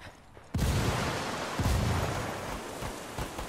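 A frag grenade goes off in a shooter video game, one sudden loud blast that rumbles and crackles into a noisy decaying tail lasting a few seconds.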